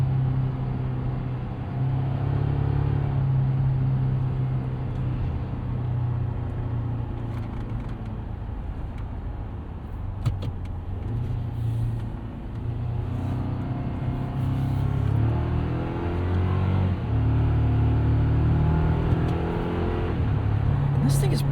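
A 2024 Toyota Tacoma SR5 pickup engine revs up and down while driving, a steady low drone with rising and falling pitch sweeps, heard from inside the cab at moderate loudness with a voice talking over it.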